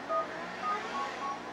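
Quick electronic touch-tone beeps from a mobile phone being dialed in Grand Theft Auto IV, a short run of clear, steady tones.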